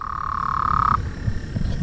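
A steady high-pitched trill from a small frog rings out close by for about a second, then breaks off into low rustling background noise.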